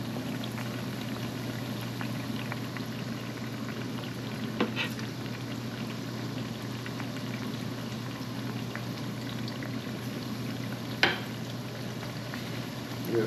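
Plantain slices frying in a pan of oil, a steady low bubbling sizzle with a constant hum underneath and a couple of faint clinks.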